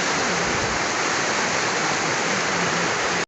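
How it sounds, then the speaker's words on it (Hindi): Mountain spring water gushing out of the hillside in a green valley village, a steady loud rushing and splashing that fills the whole stretch without pause and cuts off at the end. "ये बिल्कुल इस पहाड़ के अंदर से निकल रहा है पानी"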